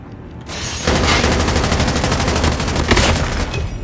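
Sustained, dense gunfire from a first-person shooter video game in Hardpoint mode, rapid automatic bursts running continuously and loudly for several seconds after a brief quieter lead-in.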